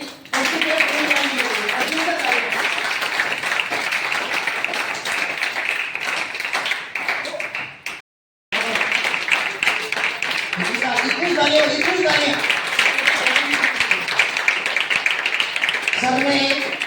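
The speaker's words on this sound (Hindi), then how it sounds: "जोरदार तालियां दीजिए" An audience at a business training event claps in a dense, steady burst of applause, loud and close, pausing briefly midway before resuming just as strongly, with voices mixed in.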